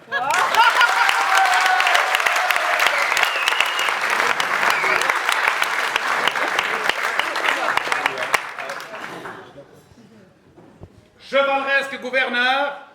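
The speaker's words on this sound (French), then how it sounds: "applaudissez-le." An audience at a brotherhood ceremony of the Confrérie du Guillon applauds loudly and steadily for several seconds, the clapping fading out before a voice starts speaking.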